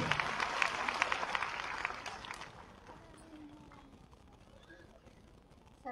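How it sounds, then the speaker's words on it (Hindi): An audience of women at a Lucknow launch event claps loudly to welcome a speaker, dense applause that is strongest at the start and then fades to quiet room noise after about two seconds. "एक बार जोरदार तालियां हमारी सुनीता"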